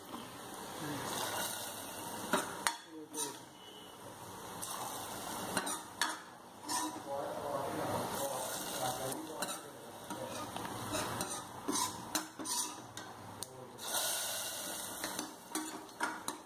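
Tempered mustard seeds being stirred into a jackfruit seed and mango curry, faint soft scraping and occasional light clinks of a spoon against the pot over a gentle sizzle.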